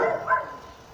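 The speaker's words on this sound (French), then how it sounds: "ce ne sont pas mes chiens, mais le chien du voisin qui gueule" A neighbour's dog barks once, short and somewhat distant, fading into a quiet room background.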